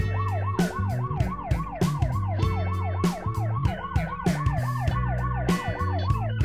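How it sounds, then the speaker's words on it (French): A police siren in the video game Play Together wails in fast, repeating up-and-down cycles over an upbeat musical backing with regular drum hits, loud and continuous. "Nous déclenchons la sirène pour les urgences."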